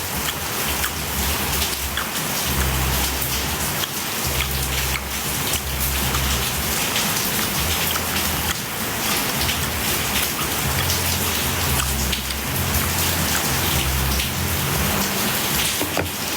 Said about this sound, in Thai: ฝนก็ตกดีแล้วตอน